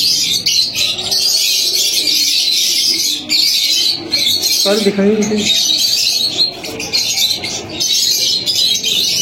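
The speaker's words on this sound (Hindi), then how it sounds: "ये है फिरोजपुरी कबूतर और बहुत अच्छा कबूतर है" Dense, steady twittering and cooing of many Ferozpuri pigeons close by at a bird market in Karachi, with someone speaking briefly underneath.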